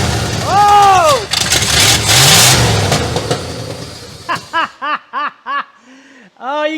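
An abandoned 1967 Cadillac DeVille V8 cranks and fires for the first time in 40 years, rumbling loudly through the opening seconds before fading out. A short string of excited vocal bursts follows.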